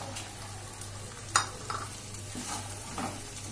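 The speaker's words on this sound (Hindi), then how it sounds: "ये देखिए मसाला भी भून गया हमारा। अब हम इसमें हरा मटर डालेंगे" Green peas go into sizzling masala for dhaba-style matar paneer, a low steady fry with a sharp clank near the start and soft stirring scrapes afterwards.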